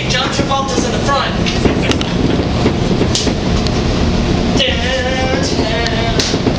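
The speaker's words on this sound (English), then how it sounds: "This is a Blue Line train to downtown and Hello, O'Hare." A Chicago Blue Line subway train heading downtown from O'Hare rides on the rails with a loud continuous rumble, rhythmic clicks and squeals, and occasional sharp clacks, heard from inside the car.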